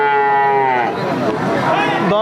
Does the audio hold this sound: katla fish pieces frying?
no